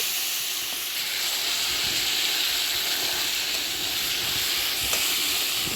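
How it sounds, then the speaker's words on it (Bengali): Meat dropped into hot oil with fried onions in a kadai, giving a steady, loud, close sizzling hiss that continues unbroken throughout, with no voices. "পেঁয়াজ ভাজা হয়ে গেছে, এখন মাংসটা ছেড়ে দেবো।"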